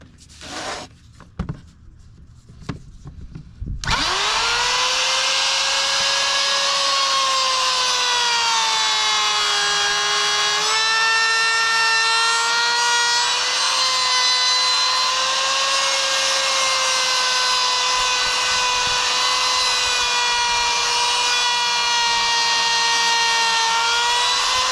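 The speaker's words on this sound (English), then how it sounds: "I still have to cut a notch out here on both sides" A power saw cuts a notch in wooden table top boards for a milling machine: a few sharp knocks, then the motor spins up into a loud, sustained high whine, steady and close.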